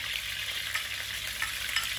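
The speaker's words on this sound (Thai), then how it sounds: "ก่อเตาตั้งกระทะใส่น้ำมันที่เราทอดปูใช่ไหมยาย เอากระเทียมลงไปผัดเนาะ" Steady, dense sizzling of garlic stir-frying in hot oil previously used for frying crab, with a continuous crackling hiss and slight swells as it's stirred.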